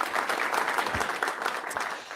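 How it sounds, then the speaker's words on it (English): Studio audience applause for a guest arriving on a live Adelaide evening TV talk show, a steady, dense burst of clapping from the crowd lasting about two seconds with no talk over it. "Give her a round of applause."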